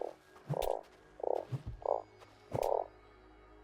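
A frog in the desert survival game Starsand croaks in five distinct, moderately loud bursts at uneven intervals, with short pauses between calls and no talk.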